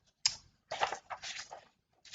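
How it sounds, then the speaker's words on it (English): Paper notes being shuffled and handled, giving a few close, dry rustling bursts separated by short pauses, with no talking. "I'm shuffling my notes around here for just a minute"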